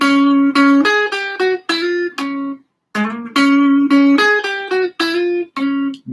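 A bright, sustained guitar melody of plucked notes with a short pause midway, played clearly and fairly loud with no voices.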